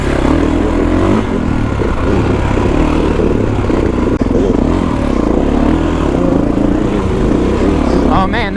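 A Kawasaki KX450X dirt bike ridden along single track, its engine droning loud and continuous with rising and falling revs throughout.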